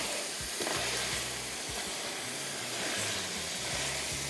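Spiced masala for Bombay biryani sizzles steadily in a hot pan as it is roasted, a continuous close frying hiss with occasional stirring scrapes and no talking.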